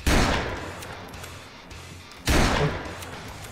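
Gunfire in a Roblox wild west shootout: two loud, sharp shots about two seconds apart, each trailing off in a long, echoing decay, with no talking over them.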